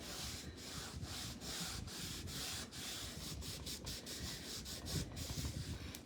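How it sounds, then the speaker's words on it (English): Steady, close rubbing and buffing of wax with the back side of an applicator, a continuous soft scratchy friction with rhythmic strokes running alone throughout. "you also always want to rub off your wax with the other side of your applicator"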